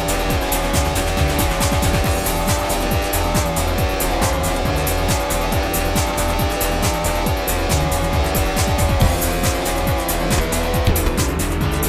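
Racing cars in a retro racing video game, with engines droning and tires squealing and skidding through corners, loud and continuous without a break and with no talking.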